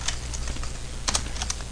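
Typing on a computer keyboard, with a steady run of light, quick key clicks and a small burst of louder strokes partway through, heard alone.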